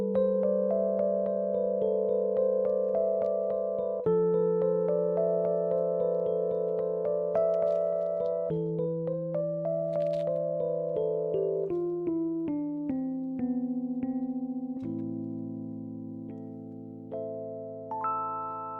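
A piano plays a slow song in a minor key, sustained chords and melody notes ringing and decaying one after another, clear and alone without talk.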